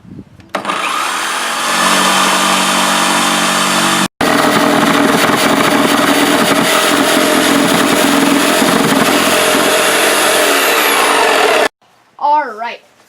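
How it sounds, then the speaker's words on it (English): Jigsaw cutting a circle out for a science project, a loud close buzzing whine running steadily for about eleven seconds with one brief pause, then stopping before a short voice at the end. "Next, we have to cut the circle out with the jigsaw."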